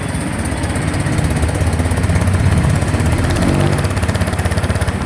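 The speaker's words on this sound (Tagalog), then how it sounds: "Check po natin yung muffler niya, diba?" A Honda Click 125 scooter engine idles through its muffler close by, a loud, steady, rapidly pulsing putter that holds even throughout.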